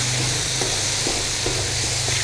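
Garam masala and black pepper fry for aloo keema under a dense, constant sizzle, with a low steady hum beneath it and soft periodic stirring scrapes close by.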